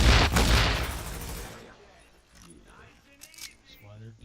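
A loud burst of gunfire opens, shooting at a jamming device in The Division, then fades to faint clatter and a few small impacts while a voice talks.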